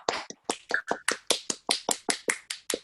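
An online panel audience gives thanks with close, crisp hand claps, a steady run of about fourteen evenly spaced claps with no talk over them.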